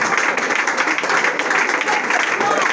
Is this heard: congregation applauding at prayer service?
yes